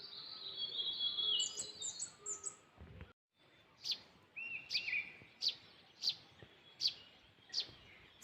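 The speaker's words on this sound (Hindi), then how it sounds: "सुंदर सुंदर पक्षियों की आवाज़ सुनाई दे रही है।" Birds sing in a mountain forest in the Uttarakhand hills: bright trills and chirps at first, then a steady run of sharp, repeated calls about every half second, fairly close and clear over a soft outdoor background.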